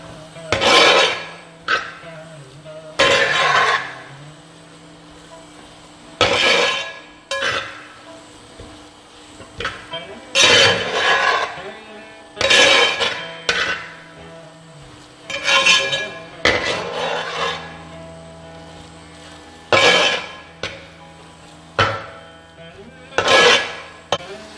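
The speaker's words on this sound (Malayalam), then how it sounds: "ഇത് നന്നായിട്ടൊന്ന് ഇളക്കി യോജിപ്പിക്കുക." Soft sweet rice flakes (avil) are stirred in a pan over a low flame: loud, close scraping strokes come in regular bursts, with quieter background noise between them and no talking.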